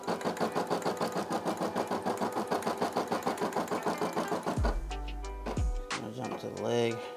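Brother SE600 embroidery machine stitching a design, a fast steady mechanical rattle of needle strokes that runs for several seconds, then stops and gives way to lower clunks and shifting tones.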